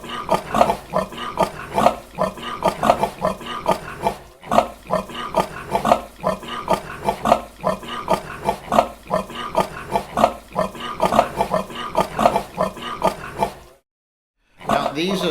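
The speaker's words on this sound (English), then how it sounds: "we all know that pigs can't jump and pigs can't fly" Pigs grunt and oink in a quick, regular run of bursts that repeats for about fourteen seconds, then stops for a moment near the end.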